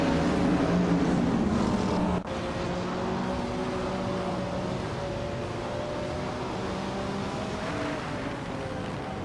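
Race cars in a video game race, led by a 1999 Lamborghini Diablo GTR at Maple Valley Reverse, engines droning in steady held tones that shift after a brief break, loud and continuous with no talk.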